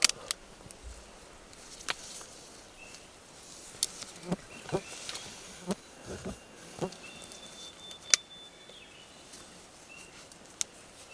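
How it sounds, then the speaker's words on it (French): Faint buzzing of flies and mosquitoes outdoors in a Quebec forest after heavy rain, with scattered sharp ticks and rustles; quiet and ambient, no talk. "Se faire défoncer la gueule par les mouches,"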